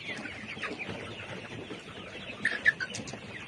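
Ready-to-lay layer hens on a poultry farm cluck softly amid a steady barn murmur, with a few sharper, closer clucks near the end.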